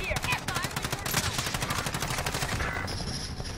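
Rapid bursts of automatic gunfire in a multiplayer shooter game's Plunder mode, loud and continuous with rhythmic shots, faint voices underneath.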